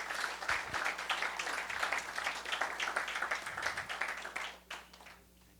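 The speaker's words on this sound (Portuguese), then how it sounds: "Por favor, uma salva de palmas." A crowd at a national leadership workshop and networking meeting claps in a dense, sustained round of applause that tapers off near the end.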